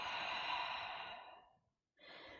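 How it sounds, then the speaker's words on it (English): A long, deep exhale during a yoga stretch streams out softly and close, tapering away to silence before a fainter breath begins. "And one more exhale."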